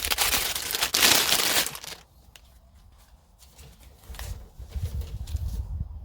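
Plastic seed packets crinkle and rustle loudly while being opened by hand, a busy burst of crackling that drops to quieter, sparse handling rustles.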